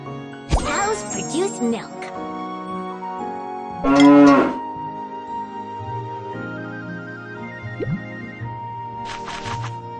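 Cattle moo several times inside a cowshed in the QubeTown farming video game, loud and close over light game music, with a soft jingle of bells and a child-like voice chattering.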